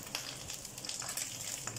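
Flying fish deep-frying until crispy, bones and all, a steady close sizzle with scattered sharper pops and crackles, no voices.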